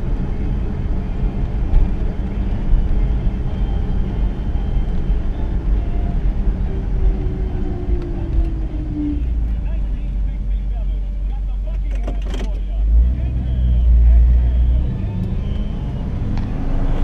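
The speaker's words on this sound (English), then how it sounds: "I just leave it in second, let the engine slow the car." A 1959 Chevrolet Bel Air's engine drones steadily at low pitch while coasting downhill in second gear, engine braking, with someone talking over the hum throughout.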